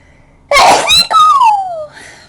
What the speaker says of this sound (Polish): Będę kichać.